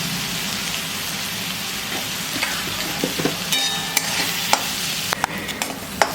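Onion, green chili and tomato sautéing in a pan for dried fish chutney, a steady close sizzle with scattered light taps and scrapes of a stirring spoon.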